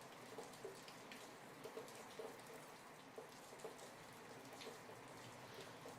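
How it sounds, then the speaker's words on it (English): Soft rain patters lightly and continuously as a soothing background, with faint scattered drops tapping at low volume and no voices. "we're gonna get some rain noises going"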